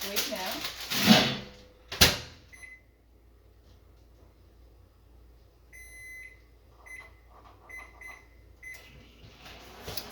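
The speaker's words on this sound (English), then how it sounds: "So I'm going to get that started in the microwave now." A microwave oven heating potatoes: two sharp door thuds, then a string of keypad beeps over a faint, steady running hum.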